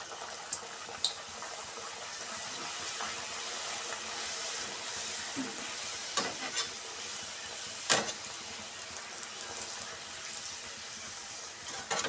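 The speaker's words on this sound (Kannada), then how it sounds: "ಈಗ ಪೂರಿನ ಸೇರಿಸ್ಕೊತಾ ಇದ್ದೀನಿ ಈ ಥರ." Pooris deep-frying in hot oil give a steady broadband sizzle and crackle throughout, with a few sharper pops and bursts standing out near the middle and end.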